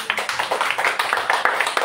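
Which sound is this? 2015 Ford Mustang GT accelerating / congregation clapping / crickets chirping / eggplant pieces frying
congregation clapping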